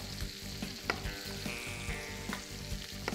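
Beef for stroganoff sears and sautés in a hot pan, a steady dense sizzle with a few sharper spatula scrapes and clicks of stirring, close and fairly loud throughout.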